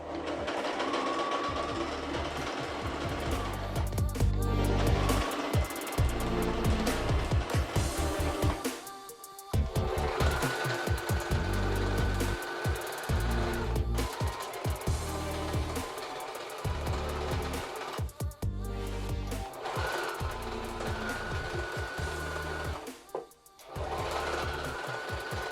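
A sewing machine stitches down the layers of a fabric belt for a Cruella costume, running loud and close in long continuous bursts with a few short pauses between runs.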